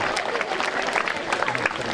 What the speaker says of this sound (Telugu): బలవంతంగా చప్పట్లు కొట్టించినట్టుంది.